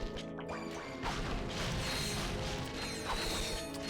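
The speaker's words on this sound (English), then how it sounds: "Got a lot of crates to blow up here." Crates smash apart in Ratchet and Clank: Going Commando with repeated crunchy bursts and clanks over continuous game music and effects, fairly loud and dense.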